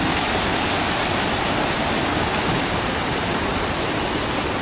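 Water rushes down a waterfall at a village spot in Konkan, a dense, loud, unbroken roar that stays steady throughout, close by and with no voices over it.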